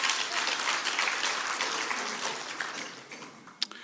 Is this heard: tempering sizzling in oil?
no